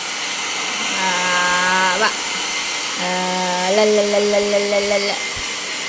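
A hair dryer blows steadily on a small dog named Cokkie after its bath, droning close and loud throughout while a woman sings and babbles playfully over it.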